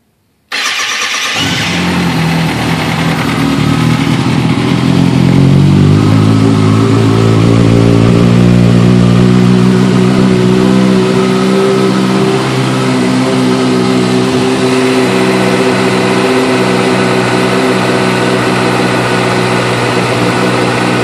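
2008 Kawasaki ZX6R motorcycle engine cranking and catching after sitting unused for a month, then revving up and easing to a rough, steady idle, loud and close for about twenty seconds, no voices.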